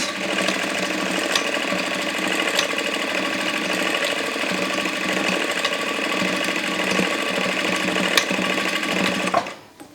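A sewing machine runs a steady straight stitch through a satin bonnet, its fast mechanical whir continuous and close for nearly the whole stretch before stopping abruptly at the end.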